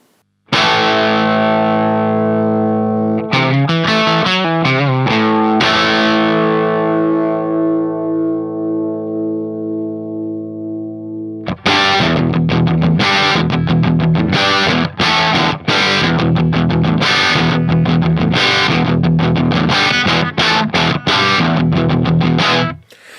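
A distorted electric guitar through a Fender Champion amp and a vintage Marshall 4x12 cabinet rings out a long sustained chord that slowly fades, then chugs through loud, rhythmic riffing with heavy crunch.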